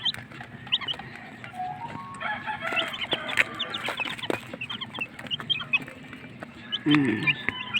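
Chickens and 12-day-old chicks cluck and cheep around a farm in a busy overlapping chorus at moderate distance, with a rooster crowing and a louder burst near the end, and a person talks faintly in the background.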